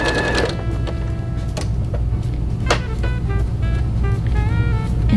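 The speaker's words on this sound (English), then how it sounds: "And we will go ahead and sew that again." A sewing machine stitches quilt pieces in a steady, fast mechanical whir, running close and continuously with a few clicks and small shifts in pitch.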